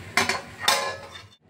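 A lid clinks down onto a pot of mutton kosha cooking on a low flame, two sharp metallic knocks followed by a brief rattle, close and clear with no talk.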